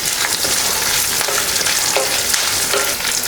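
Chana dal and onions fry loudly and continuously in hot oil in a pan for capsicum chutney, a dense close sizzle with faint stirring and no voices.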